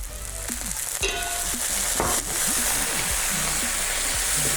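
Chicken gizzards and peppers stir-fry in a hot pan as soy sauce goes in, giving a sharp surge of close sizzling with clacks and scraping of stirring, then a steady loud frying hiss.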